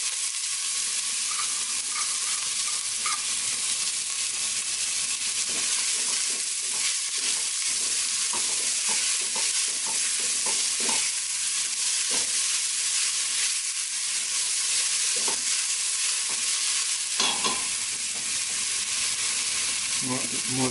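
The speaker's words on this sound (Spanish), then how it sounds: "vamos a echar un chorrito de aceite de oliva. Y agregamos la cebolla con el ajo." Chopped onion and garlic sizzle in olive oil in a hot pot, with a steady, close hiss and crackle and occasional stirring clicks, running for about twenty seconds with no talking.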